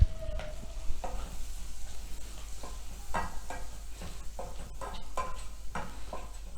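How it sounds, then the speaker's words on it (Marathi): Capsicum and cabbage sauté in hot butter with a steady close sizzle, broken by repeated scraping stirs of a spoon against the pan at an irregular rhythm; no talking. "फक्त त्या भाज्या आपण बटरमध्ये सोते करतो आहे"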